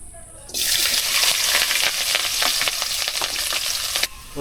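Onion, garlic and chili dropped into hot oil burst into a loud, steady sizzle that starts abruptly and holds, with crackling pops, then cuts off near the end; no talking.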